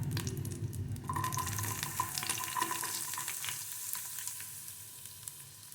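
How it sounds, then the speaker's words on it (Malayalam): Finely chopped onion drops into hot oil with garlic for a broccoli-egg fry, setting off a bright sizzle that starts loud and slowly eases into a softer, crackling fry. "പൊടിയായി അരിഞ്ഞ് ഒരു വലിയ ഉള്ളി ഇതിലേക്ക് ഇട്ട് കൊടുക്കുക"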